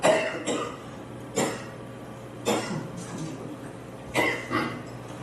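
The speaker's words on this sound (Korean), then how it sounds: "죄송해요. 자꾸 기침나." A person coughs several times in separate bursts spaced a second or so apart, close and fairly loud, with quiet gaps between.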